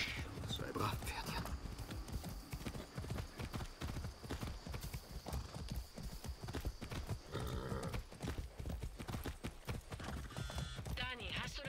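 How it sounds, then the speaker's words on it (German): Hooves of a horse in the video game Far Cry 6 clip-clop in a quick, steady rhythm, close and clear, with an occasional whinny and someone talking over them. "Das ist ein Pferd."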